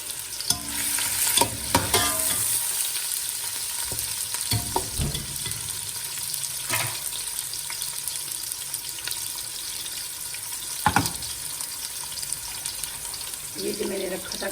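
Sliced onions tossed into a cup of hot oil for beef pulao sizzle and fry steadily, with stirring clatter and a faint voice now and then.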